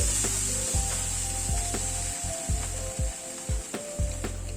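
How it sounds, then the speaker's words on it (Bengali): Spice masala with turmeric, Kashmiri red chilli powder and salt sautés in a pan, a soft continuous sizzle punctuated by rhythmic scraping strokes of a spoon working the paste, close and alone. "সব দিয়ে মশলাটাকে একটুখানি কষিয়ে নিচ্ছি।"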